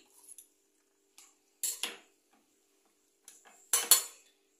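A metal spoon stirs an amaranth leaf vegetable mixture in a pot, giving a few scattered clinks and scrapes in short bursts against a quiet background, with no talking.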